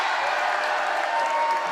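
Steady roar of a crowd cheering and applauding at a high school volleyball match between Perham and Frazee, a continuous wash of noise at even loudness throughout.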